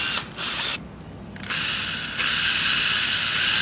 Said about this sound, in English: I like to chuck up a paint stirrer and a drill.